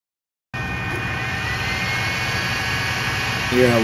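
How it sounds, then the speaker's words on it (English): An Artillery SW-X4 Pro 3D printer starting a print, giving a steady, loud whirring hum with fan noise and faint tonal whines that starts abruptly and swells slightly near the end. "at least it gives you an idea what kind of noise you'll get with the SW-X4 Pro"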